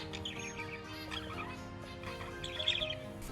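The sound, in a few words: black-faced finch calling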